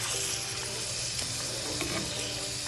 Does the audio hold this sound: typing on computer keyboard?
no